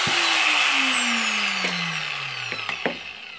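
A Makita GA5030 125 mm small angle grinder, freshly repaired with a new switch assembly, whines loudly up close and then winds down in falling pitch with a few clicks and knocks.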